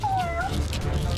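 A cat gives one short, clear meow that rises and falls, close and prominent over a low, continuous background rumble, with no talking.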